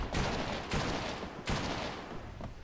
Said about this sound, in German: Kann ich ja gleich mal meinen neuen Revolver austesten.